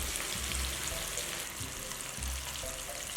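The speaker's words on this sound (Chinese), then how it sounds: "锅内油温烧至6成热，放入洋葱炸。" Onions coated in dry flour sizzle steadily in hot oil, a soft, close, continuous frying crackle with faint bubbling and no talk.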